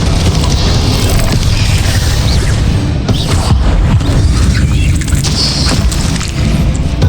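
Explosive spells cast during combat in Hogwarts Legacy, heavy booming blasts and crashing impacts piling up over a constant loud battle din, with no pause through the whole stretch.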